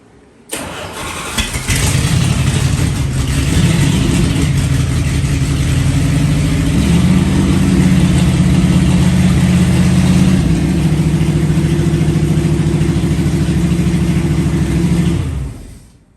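A Mopar 360 V8 fitted with an Edelbrock 1906 carburetor cranks briefly, catches and fires up, then settles into a loud, lumpy, steady idle close by with a slight rise in pitch midway.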